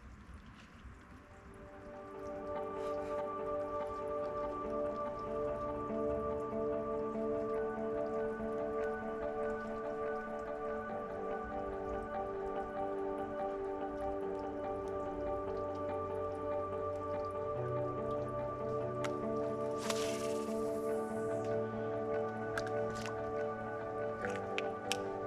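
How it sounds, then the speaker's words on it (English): Steady rainfall patters down at an abandoned torpedo range during a hammock camping trip, a continuous soft hiss of drops. A low hum runs underneath and a brief brighter splash comes near the end. "Starting to rain"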